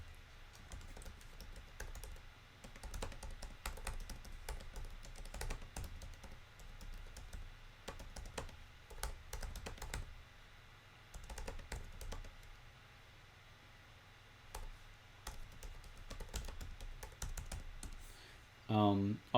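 Fingers type steadily on a computer keyboard, soft rapid key clicks continuing throughout with brief pauses, faint and close.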